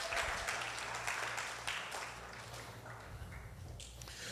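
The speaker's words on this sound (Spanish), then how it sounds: "Un aplauso, por favor" Church congregation applauding during a sermon, a steady wash of many hands clapping at moderate level over a low hum, holding for several seconds before thinning slightly toward the end.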